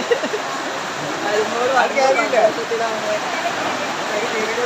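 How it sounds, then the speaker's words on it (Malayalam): A constant wash of heavy rain noise fills the background while a person talks over it. "നല്ല മഴ പുറത്ത് കേട്ടോ നല്ല മഴയാണ്"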